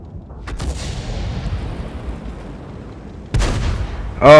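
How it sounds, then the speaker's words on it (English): Tank cannon fire in World of Tanks, a deep booming shot followed by a long fading rumble, then a second sharp impact with a bright metallic ring near the end; no speech. "did you hear that ding from the ricochet?"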